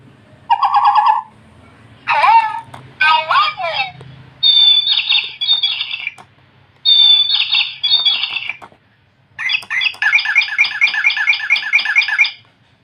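A pet bird gives a series of loud, close squawks and chirps in separate bursts, ending with a rapid repeated trill, alone with no talking.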